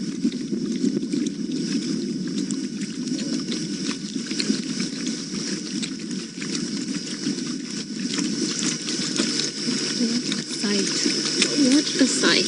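Lions of the Styx Pride lapping water together at a pan during an evening safari drive, a constant dense splashing and slurping texture, moderately quiet and unbroken, with a voice murmuring in places.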